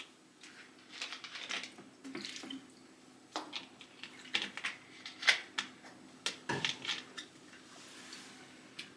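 Water runs from a tap into a sink with clinking dishes and scattered splashy transients, a steady close wash sound with no talking.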